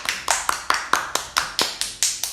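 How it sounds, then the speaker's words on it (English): A young girl claps for herself after finishing an alphabet worksheet activity, about ten crisp, evenly spaced claps close to the microphone, with no talk over them. "Clap for yourself."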